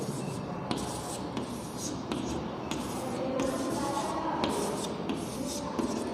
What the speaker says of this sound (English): Onion cells I am trying to draw here.